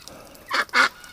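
A healthy duck in winter care gives two loud, harsh honking calls close by, the second longer and stronger, with no talking.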